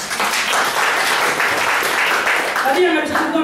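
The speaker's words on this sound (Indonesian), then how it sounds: "tepuk tangan bagi kita semua teman-teman" Audience applause fills the room as steady, dense clapping throughout, with voices and cheering mixed in underneath.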